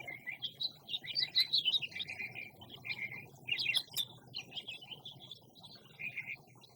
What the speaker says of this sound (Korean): 오늘 아침에 그냥 나오는데 이 새소리가